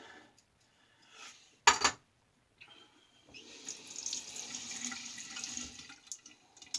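Stainless steel razor blade from a 1914 Ever Ready safety razor rinsed under a running tap, a brief splash followed by a steady stream of water lasting several seconds, fairly close and moderately quiet.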